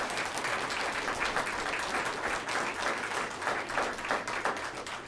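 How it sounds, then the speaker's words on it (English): Continuous applause from the audience at a school board business meeting, greeting the superintendent; many hands clapping steadily at a moderate, somewhat distant level. "that's the applause because the superintendent is supposedly making a brief comments here"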